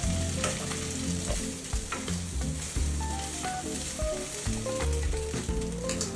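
Garlic fried rice sizzling and frying in a pan, a steady busy crackle with repeated stirring scrapes and clatters running close and continuous throughout, no talking.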